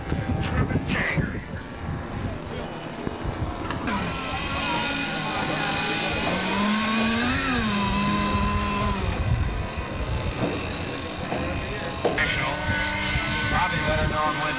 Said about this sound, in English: German airplane. German Jaeger.